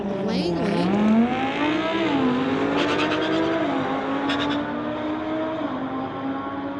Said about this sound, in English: Matt Froze from Vancouver in that Lamborghini Huracan going against Silent Byron from Langley.